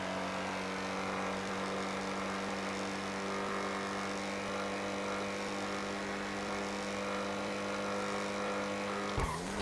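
A Mercedes Classe A racing flat out in GTA 5, a steady high-revving engine drone holding one pitch throughout, with a brief disturbance right at the end.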